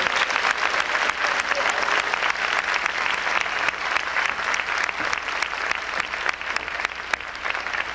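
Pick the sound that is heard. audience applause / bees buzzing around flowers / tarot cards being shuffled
audience applause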